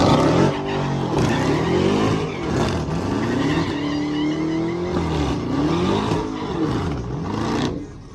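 A new car's engine revs hard and loud up close, the pitch rising and falling in repeated sweeps with crackling exhaust pops, then cuts off sharply at the end, with no talking.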